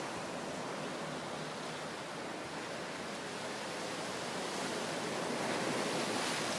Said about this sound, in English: Listen to that sea sound.